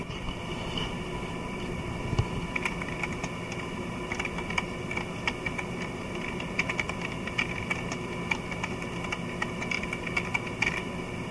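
Steady, rapid clicking of keys on a keyboard plugged into a TMAX 9-inch HD-G tablet, typed close by in an irregular rhythm throughout, with no talking.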